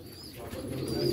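Pigeons cooing on a farm near Hyderabad, with soft, low, rolling coos at close range and no talking.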